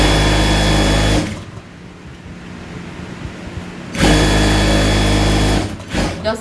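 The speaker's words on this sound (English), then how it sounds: "Okay, so I'm sewing it from the inside now." A sewing machine stitching a tote bag from the inside, loud close motor whir and rapid needle clatter running in two stretches with a quieter pause between them.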